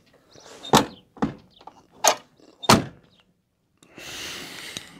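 Rear sliding window of a 1956 Ford County Sedan, stuck and being worked: four sharp, close knocks and thunks, a short pause, then a rough sliding scrape.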